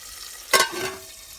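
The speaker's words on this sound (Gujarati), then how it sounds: "હવે તો ટમેટા નાખી અને હલાવી નાખવાનું છે અને હલાવીને હવે એને ઘડીક ચડવા દેવાનું છે આપણે" Tomatoes tipped into a frying green pigeon pea curry and stirred, giving one brief burst of sizzling and scraping, then a softer steady fry that continues alone.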